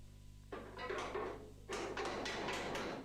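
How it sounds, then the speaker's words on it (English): Metal body parts being tapped into place on a 1980 Opel Kadett historic rally car build, a series of close, loud knocks and taps in two bursts over a steady low hum, with no talk. "Those are tapped into place."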